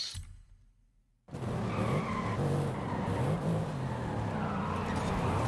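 Tyres squeal and skid continuously in Forza Horizon 5, as a car slides with wavering engine roar after a brief quieter lead-in, loud and close with no talking.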